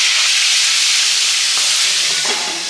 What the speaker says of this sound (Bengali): ঢাকা দিয়ে দিয়ে মাছটা ভাজা হচ্ছে।